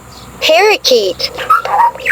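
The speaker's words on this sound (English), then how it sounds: "Parakeet." A parakeet gives a quick series of close, bright chirps and warbling tweets that rise and fall in a busy, uneven pattern.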